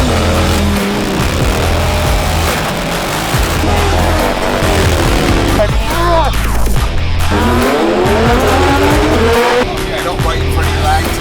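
A supercharged stock Harley-Davidson 114 motorcycle engine, tuned to about 140 hp, roars loudly and close, its pitch climbing and falling through repeated rises of acceleration with steady, continuous power.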